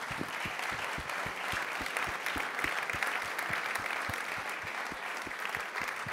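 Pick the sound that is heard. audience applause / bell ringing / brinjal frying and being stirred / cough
audience applause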